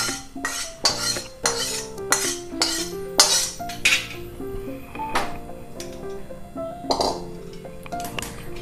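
Roasted semolina (rava) scraped with a metal spoon from a pan into a wide plate (parat), giving a run of irregular clinks and scrapes, close and fairly loud, with no speech.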